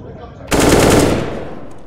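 Sustained burst of automatic gunfire in a Counter-Strike style team shooter match, loud and continuous for about a second before trailing off into a fading tail.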